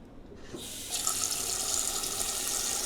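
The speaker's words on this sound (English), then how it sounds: "Love the pot filler." A pot filler faucet runs into a soup pot, a steady rush of water starting after a brief quiet moment and continuing close and loud to the end, with no talking.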